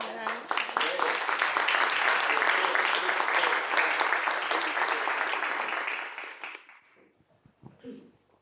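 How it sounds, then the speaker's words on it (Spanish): An audience at a library book presentation gives a warm round of applause, full and steady for several seconds before tapering off, followed by brief voices. "le damos un aplauso para"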